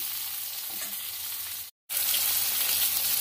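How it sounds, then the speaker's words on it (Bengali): Potatoes frying in a pan for a rohu fish curry with bori, a dense continuous sizzle while being stirred, close and steady, broken by a momentary silent cut midway. "আলুটাকে একটু নাড়িয়ে দিলাম"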